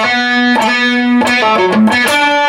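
Electric guitar lick played alone with light distortion: sustained bent notes, hammer-ons and pull-offs in a short phrase, bright and close.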